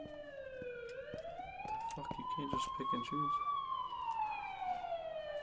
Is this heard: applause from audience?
no